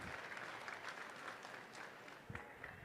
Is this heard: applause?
yes